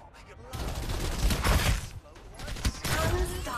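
Loud gunfire in the shooter game Farlight 84, dense volleys of shots with brief gaps and game sound effects, and a voice speaking partway through.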